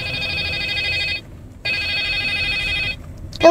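A phone rings loudly and close in two long electronic bursts separated by a short pause, with a bright ringtone pattern repeating through each burst.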